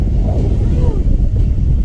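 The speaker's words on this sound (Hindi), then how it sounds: "ओ हो हवा कितनी ज़बरदस्त हवा भी है" Strong wind buffets the microphone aboard a passenger train running from Attock to Jand, a loud, continuous low roar with no breaks.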